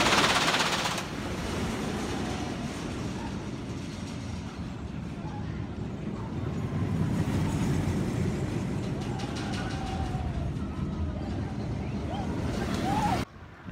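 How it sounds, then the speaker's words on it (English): A roller coaster at Cedar Point amusement park rushes past as a long, loud rumbling roar with rattling track noise, rising and holding for about twelve seconds before cutting off abruptly. "here comes the coaster"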